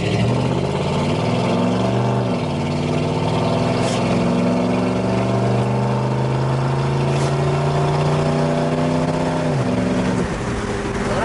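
A 1979 Dodge Lil Red Express truck with a 360 engine accelerates hard, its engine note climbing steadily through the gears with distinct drops at each shift, loud and close throughout.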